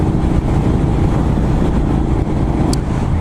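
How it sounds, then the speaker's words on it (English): Triumph Scrambler 900 motorcycle fitted with a Triumph off-road exhaust, riding along with a steady, beefy engine drone that stays loud and constant throughout, with wind noise over it and no talking. "after the Triumph off-road exhaust, which gives it this nice beefy sound, but it's not overwhelming"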